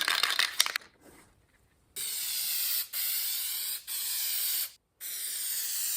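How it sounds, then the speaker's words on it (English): Loctite MR5426 headliner adhesive sprayed from an aerosol can during 1966 Dodge Charger upholstery work: four close, loud hissing bursts of about a second each, separated by brief gaps, after a few opening rattles. "So I'm using this Loctite MR5426 headliner adhesive."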